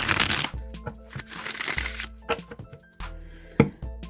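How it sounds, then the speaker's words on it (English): Quick riffling bursts of a tarot card deck being shuffled, several fast ripples followed by soft taps, close up, with no voices. "I'm going to just give this deck a few shuffles"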